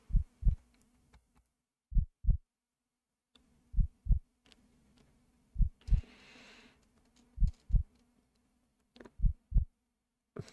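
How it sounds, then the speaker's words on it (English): A heartbeat thumps in a slow, steady lub-dub rhythm, with about seven paired low beats spaced evenly against quiet background and a faint hum between them. "The only thing I hear is my heartbeat and the beast's heavy breaths."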